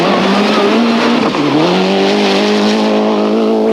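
A rally car at full pace on a gravel stage through a pine plantation forest at the 1994 Rally Australia, its engine loud and close with a steady high drone, briefly dipping then climbing again as it powers on.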